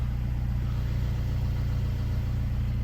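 A VW Tiguan with a converted DQ250 DSG gearbox idles just after starting, a steady, low, even engine hum that holds close and constant with no voices.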